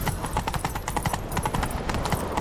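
Hooves of a horse galloping in the video game Witcher 3, a quick rhythmic clip-clop at moderate loudness, steady across the short stretch with game ambience beneath.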